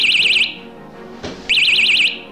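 A 9V battery-powered bicycle seatpost alarm sounds two loud, close bursts of rapidly warbling electronic siren tone, separated by a roughly one-second pause with a brief click.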